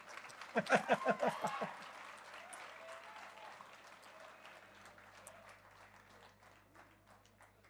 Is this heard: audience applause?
yes